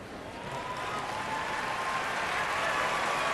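A curling crowd at the Brier in Calgary applauds a shot, a dense wash of clapping that swells steadily and holds loud, with no talk over it.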